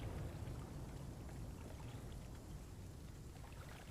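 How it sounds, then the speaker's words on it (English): Steady, faint rain hisses continuously in The Flame in the Flood, a soft, even wash of falling drops with no talking over it. "Raining and again, like, just storm after storm."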